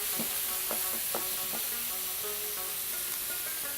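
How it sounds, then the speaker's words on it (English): Minced beef with browned onions, ginger garlic paste, cumin and salt fries in a pan, producing a continuous close sizzle and hiss with a few soft scraping stirs near the start. "he browned the onions, then he added ginger garlic paste, add the minced beef and cumin and salt"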